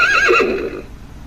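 A faulty FurReal Friends Baby Butterscotch toy pony gives a single loud, close electronic neigh with a wavering whinny that fades out quickly.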